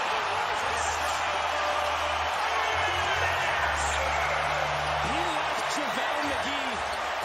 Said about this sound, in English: The crowd is still buzzing.